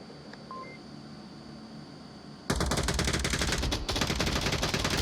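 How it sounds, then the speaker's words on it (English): Gunfire in the VR shooter Onward during a competitive match: a quiet stretch with a couple of faint beeps, then an abrupt, loud, sustained barrage of rapid automatic shots that keeps going to the end, with one brief dip. "Shots into the smoke on the south."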